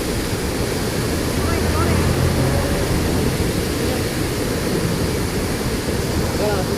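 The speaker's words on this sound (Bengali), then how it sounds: "এখানে যেটা দেখেছি এটা হচ্ছে ফলস, খুব সুন্দর" A waterfall in Meghalaya, running high with heavy water, roars as a loud continuous broadband rush with no pauses, the steady wash filling the whole scene up close.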